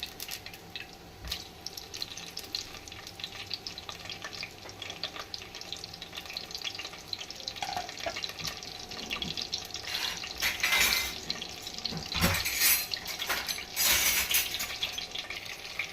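Sliced onions frying in hot oil in a heated clay pot for a grandmother-style chicken curry, a steady broadband sizzle throughout with a few louder crackling bursts near the end, no talking.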